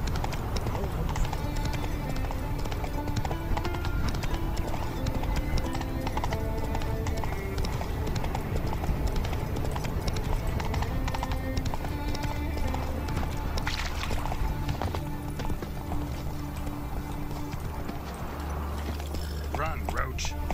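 A horse gallops in The Witcher 3 video game, with steady, rapid hoof clip-clops running throughout under game sound and voices.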